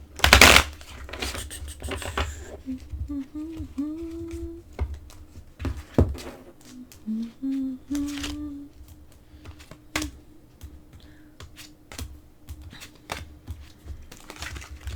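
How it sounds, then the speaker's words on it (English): Rapid crisp riffling and flicking of oracle cards, several bursts of shuffling with soft handling noises in between, close by and fairly quiet. "So I'll shuffle it once again."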